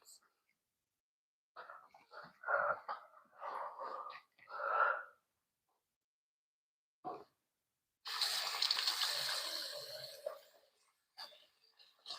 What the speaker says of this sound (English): Mama's gonna go wash her hands